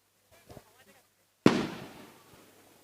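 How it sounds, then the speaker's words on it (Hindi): Fireworks go off at a Dussehra fair during the Ravan Dahan burning of the Ravana effigy, one sharp loud bang with a crackling tail fading over a second, after a few faint sounds from the crowd. "आतिशबाजी का दौर शुरू हो चुका है।"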